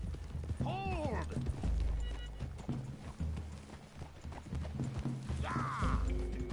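Horse hooves clopping and galloping in the video game Red Dead Redemption 2, a steady rhythmic beat under a busy game mix with a horse whinnying twice and voices talking.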